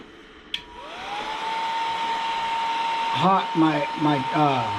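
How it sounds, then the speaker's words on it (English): A heat gun switches on with a click and blows hot air onto hot glue, its fan rising into a steady whirring hiss with a high tonal whine, while someone talks over it in the final seconds. "heat gun on here, and we're just going to get this nice and warm"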